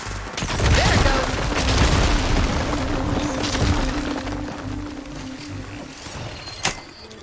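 Glowing crystals explode in Horizon Forbidden West, a burst of booming, crackling blasts that swells and slowly fades, with a sharp crack near the end.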